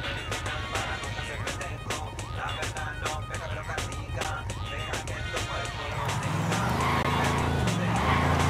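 A car driven in Ghost Recon Wildlands, with a steady engine hum, rapid clicks and a rising, shifting engine tone near the end, loud and close.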